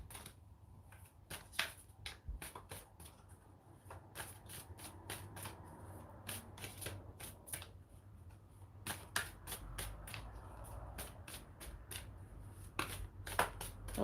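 Tarot cards being shuffled by hand, a long close series of crisp riffling bursts and snaps in an irregular rhythm with no talking.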